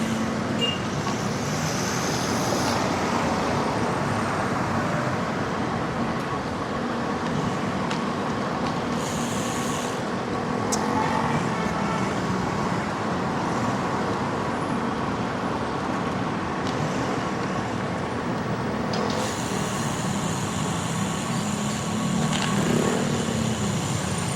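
Steady road traffic noise fills the whole stretch, a dense continuous rumble of cars and larger vehicles passing nearby with occasional brighter hisses, loud and without talk.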